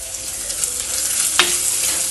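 Dried red chillies frying in oil for a fish curry, a close steady sizzle with light stirring and a brief sharper scrape near the end.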